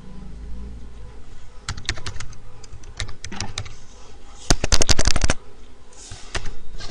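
Keys clatter on a computer keyboard in short irregular bursts, with a denser, louder run of rapid keystrokes near the middle and a few scattered taps at the end.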